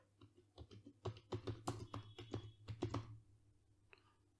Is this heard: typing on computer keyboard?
yes